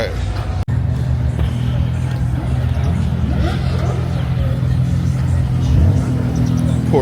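A Porsche sports car's exhaust gives off a deep, steady rumble at an exotic car gathering, under continuous nearby crowd chatter and people talking.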